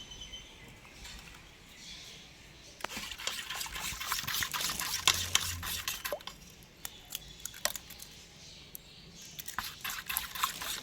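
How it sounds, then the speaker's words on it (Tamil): Thick plum cake batter for a rich fruit cake is mixed by hand, giving wet squishing and sticky, dripping slaps in an irregular rhythm, close and moderately quiet. "சரி, மிக்ஸ் பண்ணுங்கம்மா, மிக்ஸ் பண்ணுங்கள்"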